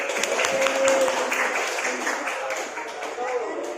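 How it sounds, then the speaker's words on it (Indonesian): Audience applause at a school election event, right after the winning candidate is announced, a dense broadband patter of many hands clapping that holds steady for several seconds, with voices mixed in. "Tepuk tangan."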